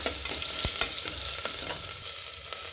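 Onions sauté in a pan with dried red chillies, shallots, curry leaves, asafoetida and turmeric, a dense continuous sizzle close by, broken by a few scraping stirs and no voices.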